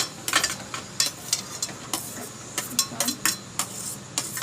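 Chopped carrot, tomato, onion and chilli being stirred and mixed for a sandwich filling, giving close, irregular clinks and scrapes of a utensil against a bowl, with no talking.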